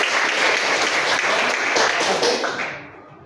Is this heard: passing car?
no